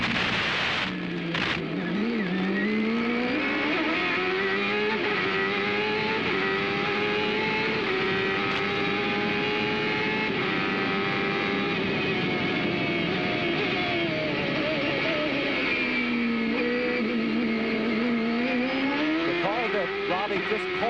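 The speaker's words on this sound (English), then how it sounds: "Let's just ride with him a bit now. The gear changes are spectacular here." Onboard a CART race car at the 1995 Australian round, a loud engine howl rising and falling through rapid gear changes, close and continuous, with commentary talking over it.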